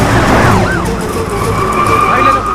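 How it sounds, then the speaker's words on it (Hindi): A police car siren wails with rising and falling sweeps over steady traffic rumble, fairly close and loud, with faint voices in the background. "पुलिस की गाड़ी आ रही है,"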